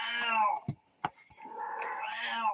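A Siamese cat meows twice in long, drawn-out, tonal cries, separated by a few brief thumps, close and clear.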